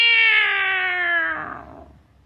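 A cat lets out a single loud, drawn-out meow that starts strong and slowly falls away into a fading tail.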